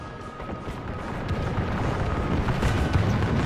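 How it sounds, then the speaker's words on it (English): Heavy cannon fire pounds tightly packed enemy ranks in a Thirty Years' War battle game, 1648 Sweden campaign, with steady rumbling booms and battle din blending into a dense, continuous roar with no talk. "And having come under fire from our cannon, they are suffering heavy casualties."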